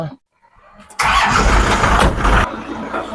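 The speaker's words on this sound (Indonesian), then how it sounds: "ini karakter dari diesel PW Caravelle 2500 cc diesel" A Volkswagen Caravelle with a 2500 cc turbo diesel engine turns over after a brief silence, then runs loud and close for about a second and a half before settling to a lower, steady note.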